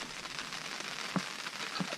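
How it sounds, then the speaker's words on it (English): Rain falling outdoors during car repair work on a timing belt, a steady close hiss of drops pattering on surfaces with a couple of louder individual drip hits, no talk. "Getting rained out a little bit."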